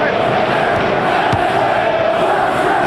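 A stadium crowd in a Chelsea versus Bournemouth Premier League football video game keeps up a loud, continuous roar of noise throughout.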